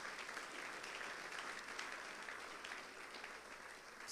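A church congregation applauding during a Sunday service, a steady wash of many hands clapping together at moderate distance, sustained for several seconds without voices.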